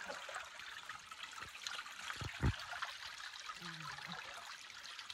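Cold spring water trickles steadily and fairly faintly outdoors, a soft continuous wash with a couple of brief knocks and splashes partway through, and no talking.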